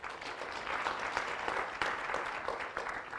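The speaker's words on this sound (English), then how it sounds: "let's put our hands together" Conference audience applause, a fairly quiet, continuous patter of many hands clapping, heard from a distance and with no talk.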